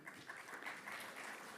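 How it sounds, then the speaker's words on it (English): An audience applauds at a graduation hooding ceremony, a faint, distant, steady patter of many hands clapping throughout. "Thank you for the clapping though"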